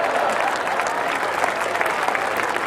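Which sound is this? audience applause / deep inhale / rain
audience applause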